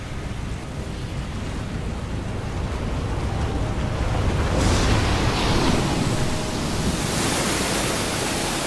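Tsunami waves about 14 meters high surging against and over coastal sea walls at the Fukushima nuclear plant, a loud, continuous roaring wash of water that swells and grows stronger partway through.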